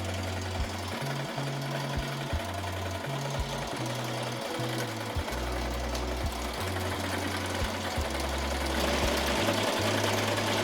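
An embroidery machine sews a satin stitch on a hoodie, a loud close mechanical rattle with rapid needle strokes that shift in pitch and pause briefly as the stitching changes direction.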